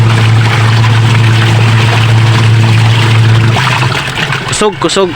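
A washing machine running off a solar power station spins with a loud, steady motor hum for several seconds, then winds down as a voice speaks.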